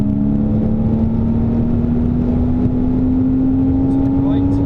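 A car engine drones steadily on the Silverstone circuit, its pitch rising slowly as it accelerates. The tone stays loud and close, as if heard from inside the car.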